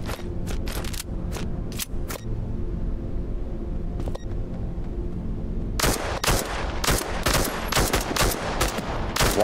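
Pistol gunfire in a video game comes as loud, sharp shots, scattered singly early on, then a dense run of rapid close reports in the final few seconds over a steady game background.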